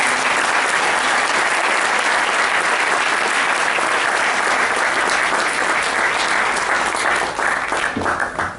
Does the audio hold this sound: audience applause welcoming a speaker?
yes